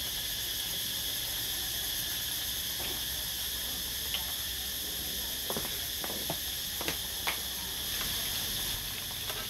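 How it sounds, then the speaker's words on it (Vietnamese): Summer cicadas drone in a steady, high-pitched buzz continuously in the background, with a few faint scattered knocks and clicks. "Video này có cả âm thanh của mấy con ve sầu mùa hè nữa nha"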